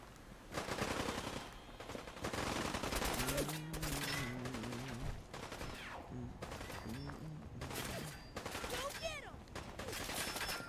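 Rapid bursts of gunfire in Fallout 4, repeated volleys of automatic shots close and loud across the clip, with voices speaking in between.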